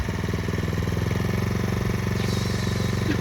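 Small engine at a rural old house in spring, running at a steady rough idle with a fast even putter, moderately close and continuous throughout.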